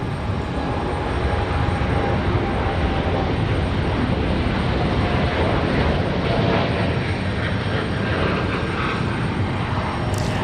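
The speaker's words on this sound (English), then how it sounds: "Leaving a little heavy this evening for the Dreamliner." A Boeing Dreamliner departs heavy from Raleigh-Durham airport in the evening, its engines producing a loud, unbroken roar with a deep rumble and hissing upper rush that stays constant throughout, without any speech.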